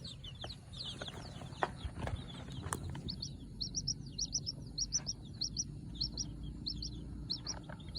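Newly hatched chicks cheep in rapid, high-pitched bursts, faint and close, with soft rustling and shuffling underneath.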